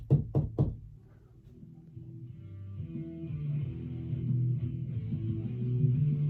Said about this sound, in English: So I'll give a knock to get them to turn it on.